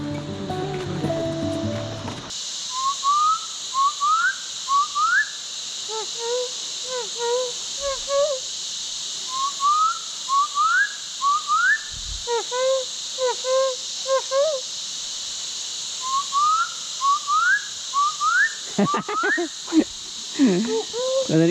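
A bird mimicking human whistles repeats short rising whistles in bursts on the Rudranath Temple trek, sounding like a person whistling, over a steady rush of flowing water.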